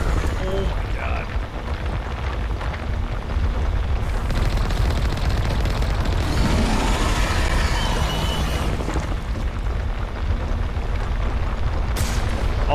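A ship's cannon firing in the video game Mass Effect 1 Legendary Edition, heavy booming blasts and rumble running continuously, loud, with a voice talking over it.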